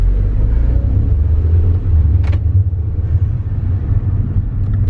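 A Mini Cooper S with newly installed performance brakes drives along on a test run, giving a loud, steady low road rumble and engine drone inside the car, with one brief higher-pitched swish partway through.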